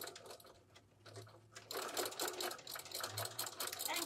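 A sewing machine stitches a backstitch on a curtain panel in two short bursts of fast, rhythmic whirring and clatter, the second longer, heard close and fairly quiet.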